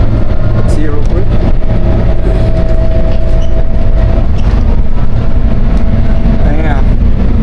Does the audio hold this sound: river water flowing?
no